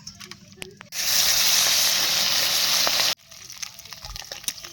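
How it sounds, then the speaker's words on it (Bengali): Fish rubbed with turmeric and salt goes into hot mustard oil with a sudden loud sizzle that roars for about two seconds, then cuts off, leaving quieter kitchen clatter before and after. "তারপরে বন্ধুরা দেখো মাছগুলো কিন্তু তেলে দিয়ে ভালো করে লাল লাল কড়া করে ভেজে নিলাম।"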